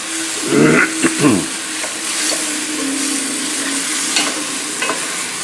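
Mushrooms frying with fresh garlic and onions, stirred in a pan: a steady close sizzle runs throughout, with a few louder scraping stirs early on and occasional soft clicks, and no talking.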